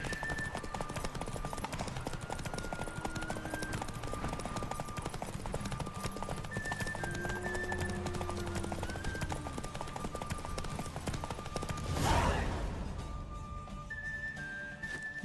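Horse hooves clip-clopping at a steady gallop in The Witcher 3 video game, a continuous rhythmic beat under game music and ambience for most of the stretch, with a brief louder burst near the end.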